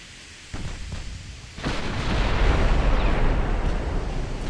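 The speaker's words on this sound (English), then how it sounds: "Only firing 6 guns at the moment." Battleship main guns firing with shell explosions during a WW2 battleship battle in Ultimate Admiral Dreadnoughts, Kongo class: two sharp booming reports, then a sustained, loud thundering roar of blasts rolling together.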